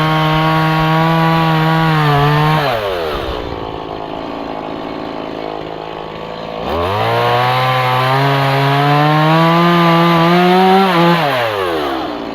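A Stihl MS 180 C-BE chainsaw bucks beech logs into firewood, revving high and steady for a couple of seconds, idling down, then roaring up again for a longer cut before dropping off, loud and close with no talk.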